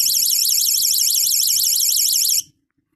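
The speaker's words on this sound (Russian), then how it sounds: "При задержании в течение 5 секунд включается сигнализация" A piercing electronic alarm siren from a Xiaomi NexTool multifunction flashlight warbles rapidly and loudly, then cuts off abruptly into silence.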